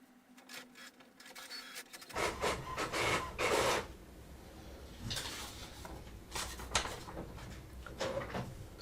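HP OfficeJet Pro 8120 series printer printing a page, with a mechanical start-up, then repeated whirring, rasping passes of the print head and paper feed, close and fairly loud, with no talk.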